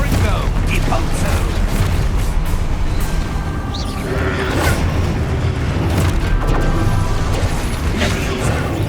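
Spell blasts boom and crash in Hogwarts Legacy combat, loud repeated explosive bursts layered over a busy, dense game soundscape.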